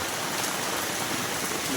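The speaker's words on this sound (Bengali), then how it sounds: "বৃষ্টি ঝরঝর করে পড়ছে আর আমরা বৃষ্টির মধ্যে বেরোচ্ছি" Heavy rain pours steadily near Daringbari, a dense, even hiss of falling drops on surfaces close by, with no break and no voices.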